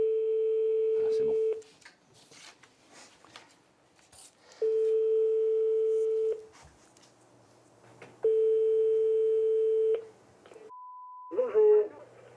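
A telephone dial tone sounds in three steady, loud stretches of about two seconds each, separated by quiet gaps with faint handling noise, then a brief higher beep and a short burst of a voice answering.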